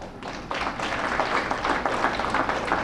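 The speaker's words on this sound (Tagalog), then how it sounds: "Parang mahina ang palakpak ng mga teachers." Teachers in the audience at a city address clapping, a modest, fairly even patter of applause held for a few seconds without a strong swell.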